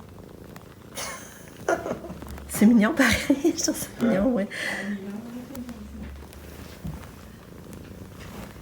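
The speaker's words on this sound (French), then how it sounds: "On l'entend ronronner." A cat's soft, rumbling purr runs close and steady beneath a woman's quiet French speech.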